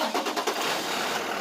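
Diesel truck engine running nearby, a dense steady rumbling drone with a few pulsing surges at the start, loud and alone.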